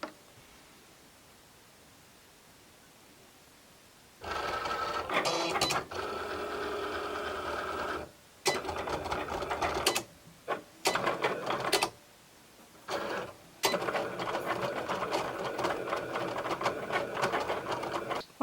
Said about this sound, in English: Once the machine is done cutting,